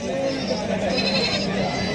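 Goats bleat amid a busy, noisy crowd at a goat and sheep market in Sangola, their wavering cries mixed with overlapping human chatter.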